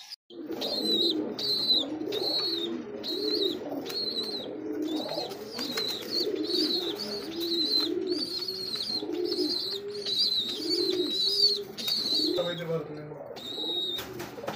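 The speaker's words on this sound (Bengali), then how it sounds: "দর্শক দেখছেন কত সুন্দর একজোড়া কিং কবুতর দেখতে পাচ্ছি" A pair of king pigeons, kept with their chicks, coo in steady repeated phrases close by, with chirpy calls above and a voice talking over them at times.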